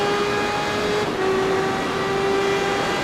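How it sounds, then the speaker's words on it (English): Motorbike engine in the racing game Ride 3 during a drag race, a steady high-pitched whine holding nearly constant pitch for about three seconds with a brief dip midway, loud and alone. "There's no meter, you just have to listen to the revs of the bike."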